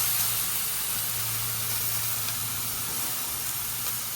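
Smash burgers cooking on a Weber griddle insert on a Weber Genesis grill, giving a steady, loud, continuous sizzle and hiss with no pauses.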